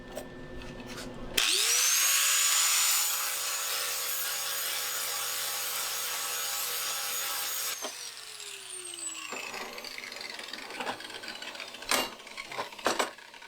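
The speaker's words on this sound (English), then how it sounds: "I'm just gonna clean the spatter off it" A power tool spins up sharply and whines steadily while cleaning weld spatter off a welded engine motor mount for a custom Chevelle, then winds down, with clanks and knocks afterward.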